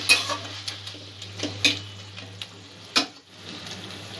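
Chicken with spices fries in a pan for Chicken Bhorta while a utensil stirs it, giving close clinks and scrapes against the pan at an uneven rhythm over a steady low sizzle.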